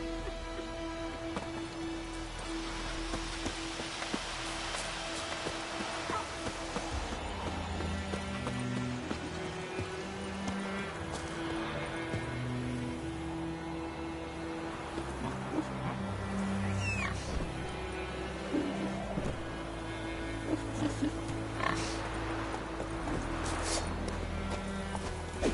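A horse gallops in the video game The Witcher, its rhythmic hoofbeats running under a layer of game music, with occasional higher cries mixed in.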